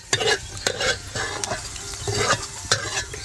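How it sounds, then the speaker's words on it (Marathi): Coriander seeds stirred and frying in a pan for a grandmother-style masoor amti, after coconut was fried. A steady close sizzle carries repeated scraping strokes of the spoon at an even rhythm, with no talk. "आता धने पण तळून घेते"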